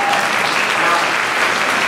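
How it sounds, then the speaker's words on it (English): A commencement audience bursts into loud, dense applause, many hands clapping together in a continuous, even roar from start to finish. "Yes, you can clap for grandchildren."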